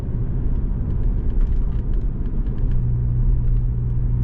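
A 200,000-mile Saab 9-5 under light acceleration at about 25 mph fills the cabin with a steady low rumble of engine and road noise, constant and fairly loud with no talking.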